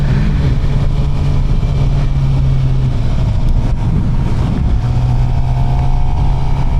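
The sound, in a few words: Suzuki GSXR 750 motorcycle engine running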